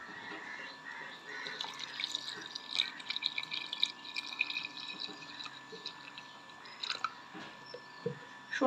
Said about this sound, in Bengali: আর দিয়ে দেবো ঠান্ডা জল।